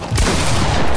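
A quick burst of rapid video game gunfire, several loud shots packed close together with a crackling, explosive edge.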